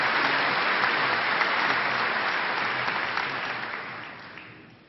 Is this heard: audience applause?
yes